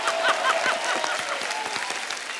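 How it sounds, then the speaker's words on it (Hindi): Studio audience at a comedy talk show claps together, a dense steady wash of applause close and loud throughout with a little vocal noise mixed in. "एक बार हमारी ऑडियंस के लिए भी ताली हो जाए।"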